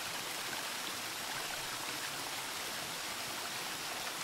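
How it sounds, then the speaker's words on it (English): Water rushing steadily down a mountain as a dense stream, a loud, continuous broadband roar with no pauses or other sounds. "water flowing down, rushing down the ocean, rushing down the mountain towards the great ocean"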